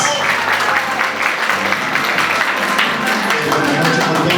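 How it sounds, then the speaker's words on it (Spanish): Guests at a family baptism party clapping together in a steady, dense round of applause that stays loud and close for the whole stretch. "¡Fuerte las palmas!"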